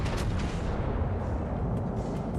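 Naval gunfire in the game World of Warships Legends, a dense low rumbling of heavy cannon blasts blending into a continuous booming roar at moderate volume.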